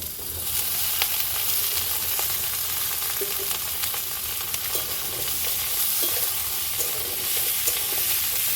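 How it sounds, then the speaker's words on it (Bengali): A few onions fry in hot oil in a pan at home, with a continuous close sizzle and occasional sharp scrapes and taps from stirring. "তেলটা গরম হতে না হতে অল্প খানিকটা পেঁয়াজ দিয়ে দিলাম"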